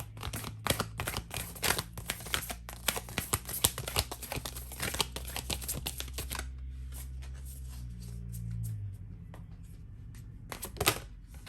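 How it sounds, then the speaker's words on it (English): Close, busy shuffling of a deck of oracle cards with quick riffles and crinkling flicks, then settling into quieter handling and a final few card snaps. "I'm gonna draw some more oracle cards."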